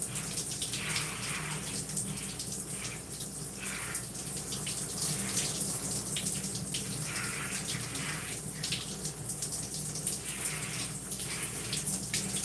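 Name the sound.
running water rinsing shampoo out of hair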